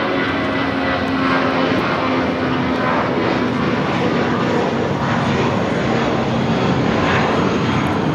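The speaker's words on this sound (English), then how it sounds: "276 taking off to Jackson on the A320" A United Airlines Airbus A320 takes off, its jet engines a steady, loud, broadband roar that holds close and even throughout without fading.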